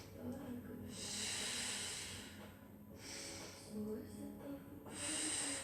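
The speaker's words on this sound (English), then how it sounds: "We'll take 3 more breaths." Deep, slow breaths during a mat exercise class: about three long, hissing exhales close to the mic, each followed by a short pause, with some murmured talk underneath.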